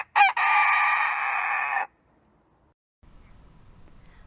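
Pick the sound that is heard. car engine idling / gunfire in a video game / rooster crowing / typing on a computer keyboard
rooster crowing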